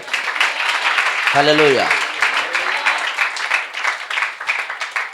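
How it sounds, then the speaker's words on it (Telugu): A prayer-meeting congregation at a closing fasting service breaks into sustained, dense applause that fills the whole clip, while a voice calls out briefly over the clapping. "చప్పట్లు కొడదాం ఒకసారి."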